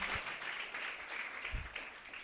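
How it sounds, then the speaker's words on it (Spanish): Congregation clapping hands together in a church, a steady patter of applause that runs throughout at moderate level, with a few stronger low thumps standing out. "Dele fuerte las palmas al Señor."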